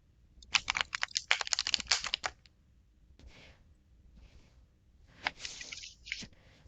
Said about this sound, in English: Oh, I do love that noise. I find shuffling so relaxing.